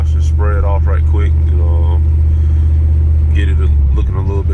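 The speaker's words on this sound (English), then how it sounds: "I'm just cruising in it right now. I'm just driving it." A boxy Chevy car's engine hums in a steady low rumble while cruising, with someone talking over it throughout.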